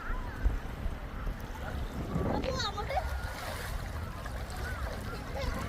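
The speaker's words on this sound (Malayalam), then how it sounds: "ഈ വെള്ളം ഇങ്ങനെ തിരയടിച്ചടിച്ച് ഇങ്ങനെ കണ്ടോ" Sea waves washing in on the shore, a soft continuous wash and splash with wind buffeting the microphone, faint and distant-sounding beneath a voice talking.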